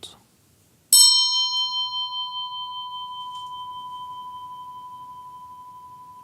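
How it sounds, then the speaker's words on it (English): A shrine bell used in meditation is struck once, sounding close and alone. It gives a bright metallic ring that settles into a long, pure sustained tone and fades slowly over several seconds. "let the sound experience of this bell ringing reappear in your memory as good as you can"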